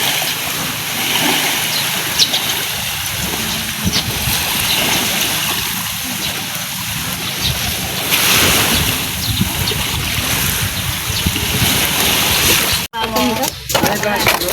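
Steady wind blowing outdoors at a house-building site, a broad continuous rush with gusting swells throughout, with a brief sharp knock near the end.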